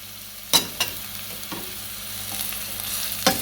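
Chopped onion fries in olive oil in a pot over medium heat, giving a steady, even sizzle with a low hum beneath and a few sharp clacks of a utensil.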